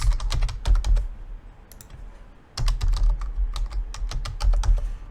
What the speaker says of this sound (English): I'm going to type just a demo mail address, demo.com.